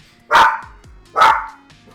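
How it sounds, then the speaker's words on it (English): Two loud, close dog barks, spaced about a second apart, with a quiet pause between them and no talking. "sorry about that, that's my dog"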